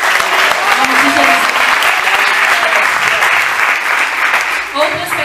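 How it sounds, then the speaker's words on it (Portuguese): A church congregation at a missions service applauds steadily for several seconds, a dense wash of clapping filling the room, with voices faintly mixed in. "Você pode aplaudir a Lúcia?"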